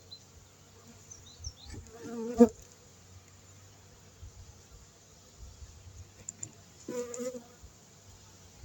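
Honey bees buzz steadily around open hive frames while a beekeeper checks the colony before winter, a soft continuous hum with a couple of brief louder swells close by.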